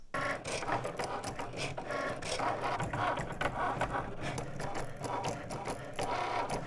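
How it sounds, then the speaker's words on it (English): A Cricut cutting machine cuts permanent vinyl with a continuous mechanical whirring and buzzing broken by repeated rapid ticks and clatters as the carriage moves, steady and close. "Then I'm gonna load this into my machine. I only have to press 2 buttons and the Cricut does the rest for me."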